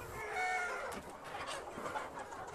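Chickens clucking steadily and close by in a poultry barn on a farm raising a flock of over 1,500 birds, a dense overlapping chorus with scattered individual calls and no talking.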